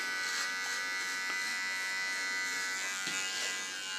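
Electric hair clippers cutting a woman's hair short, a steady close buzzing hum running throughout with slight shifts as the blades move through the hair.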